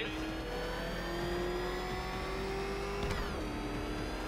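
A car engine revs steadily in Batman: Arkham Knight, its rising tone holding continuously under a dense layer of game music and effects, with a sharp shift and a brief burst about three seconds in.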